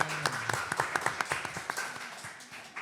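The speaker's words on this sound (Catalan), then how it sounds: "Un aplaudiment, sisplau." Applause from a live theatre audience, scattered claps heard fairly close, rather thin and uneven, trailing off over a few seconds with faint background murmur.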